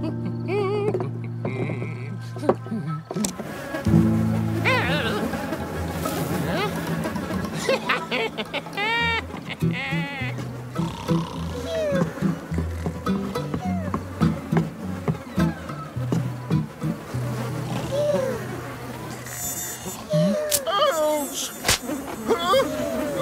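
Mosquitoes in a kids' cartoon, thin, wavering insect buzzes that rise and fall repeatedly over a busy background of tones and other cartoon sounds, with voices talking at times.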